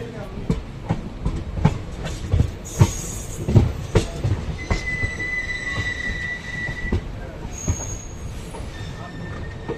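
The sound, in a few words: DEMU train wheels on rails switching lines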